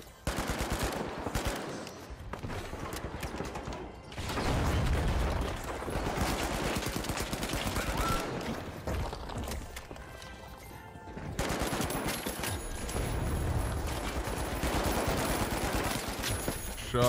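Sustained, dense gunfire fills a firefight in the shooter video game The Finals: rapid automatic bursts and overlapping shots run almost continuously, with brief lulls between the heavier exchanges.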